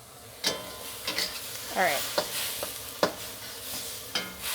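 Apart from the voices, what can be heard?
stir-frying Thai basil chicken in a wok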